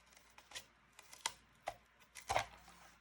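A few sharp snips of scissors cutting through material, spaced irregularly with quiet gaps between, close and fairly soft.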